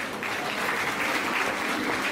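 Audience applause at a Hindi poetry recital, steady dense clapping from a crowd throughout, with no voices above it.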